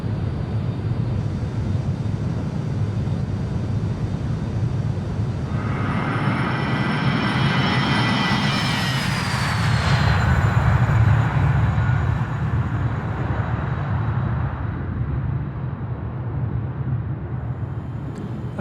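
An airplane climbs out after takeoff from Lukla airport, its engine roar loud and steady throughout, with a rising whine that swells in the middle before easing as the climb continues.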